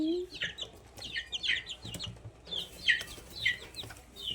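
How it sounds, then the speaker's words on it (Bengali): Chickens wander a home yard, giving repeated short clucks and higher chirping calls at a moderate distance, with faint background noise between the bursts. "দেখুন দেখুন কতগুলো মুরগি।"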